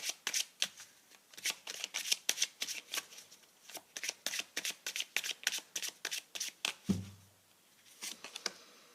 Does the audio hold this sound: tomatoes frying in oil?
no